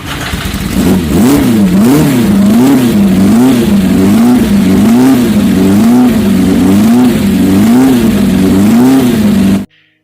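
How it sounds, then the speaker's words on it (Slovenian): A four-cylinder inline racing car engine revs loudly and steadily, its pitch rising and falling in repeated waves as it works through the gears, with no talk over it. "4 cilindrov linijski motor je imel, če se mene vpraša, zanimiv zvok"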